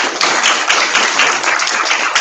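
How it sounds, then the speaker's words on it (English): An audience at a technology talk applauds, a dense burst of many hands clapping close and fairly loud, steady for a couple of seconds with no talking. "A round of applause, please."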